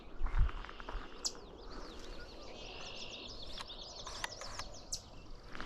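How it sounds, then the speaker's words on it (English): A house wren sings from straight ahead in a wetland, its bubbly, rapid warbling phrases recurring at moderate distance over a steady background hum of insects and crickets. "That's a house wren that you hear straight ahead"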